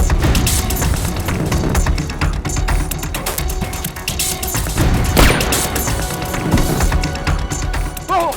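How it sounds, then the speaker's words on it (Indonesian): A dense, loud stretch of gunfire and crashing impacts in a drama scene, with continuous clatter and scattered sharp bangs and no talk over it. "Yasmin, kita ditembak, Yasmin!"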